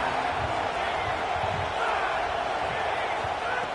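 Steady stadium crowd roar from a college football video game, a dense continuous wash of cheering that holds level throughout with no clear breaks.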